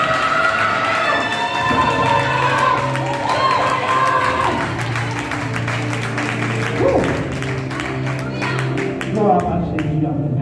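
Congregation applauding and cheering in church, a sustained dense wash of clapping and crowd noise with voices and shouts mixed in, loud and continuous throughout.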